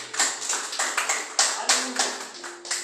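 A church congregation claps steadily in rhythm, roughly three to four sharp claps per second, fairly close and loud with no talking over it.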